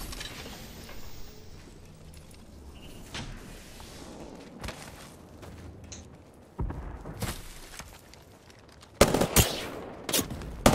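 Gunshots in the video game Apex Legends, sparse distant pops early on building to a close, loud flurry of rapid shots near the end, against quiet game ambience.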